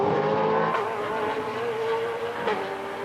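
Race cars at the World Time Attack Challenge roar around the circuit, a loud, continuous engine drone with shifting pitch as cars pass, heard without talk.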